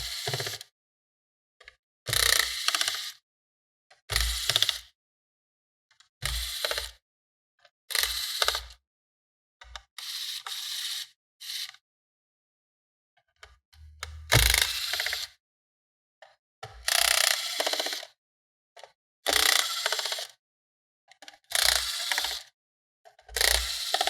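Screws being removed from the bottom of a Lanix Neuron laptop with a screwdriver, heard as repeated short close bursts of ratcheting and turning, separated by brief silences.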